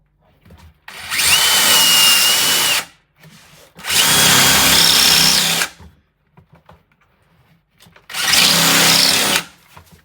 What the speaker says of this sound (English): Next, we're gonna drill the second hole.